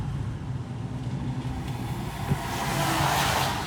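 A car pulls ahead after shifting into third gear on a driving-test practice route in Brovary, its engine note swelling steadily as it accelerates, close and continuous with road noise and no talk.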